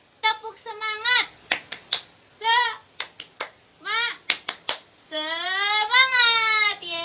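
Rhythmic group claps in a grade 4 classroom ice-breaking clap chant, struck in quick bursts of three between sung chanting voices, close and clear.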